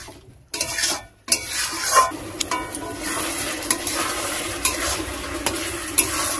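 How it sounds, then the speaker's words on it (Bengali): Spice masala with turmeric is stirred and fried for a jackfruit and prawn curry in a village kitchen, giving a loud, continuous sizzle with repeated scraping stir strokes and two brief pauses near the start. "এই যে এইভাবে ভালো করে মশলাটা আমি কষিয়ে নেব।"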